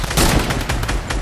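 Sniper rifle fire in a video game, a rapid burst of loud, sharp shots packed closely together, close and dominant over the brief moment.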